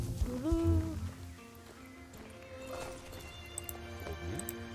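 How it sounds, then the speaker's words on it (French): Pony hoofbeats in the video game Star Stable Online, a rhythmic clip-clop run with a whinny near the start, heard over the game's background music. "Le poney est à fond, là."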